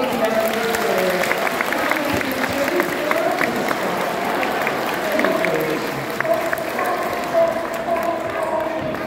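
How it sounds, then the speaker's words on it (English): Audience at a sea lion show breaking into sustained applause, a dense crowd clatter of clapping running throughout with some voices mixed in. "give them both a big round of applause"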